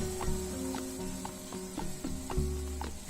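Onion and bell pepper sizzle steadily as they fry in a pan, with a constant crackle broken by occasional light scrapes or stirs, close and alone with no talk.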